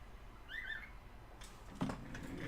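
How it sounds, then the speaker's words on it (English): Small birds call briefly and fairly faintly close to a streamer's room, with a couple of thin chirping whistles against a low background hum. "Shush, birds!"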